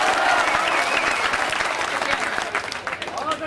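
An audience at a Shabina Adeeb poetry recital breaks into loud, dense clapping that stays full and steady before thinning into scattered claps near the end.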